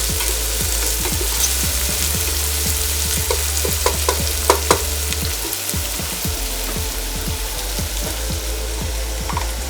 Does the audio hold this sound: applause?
no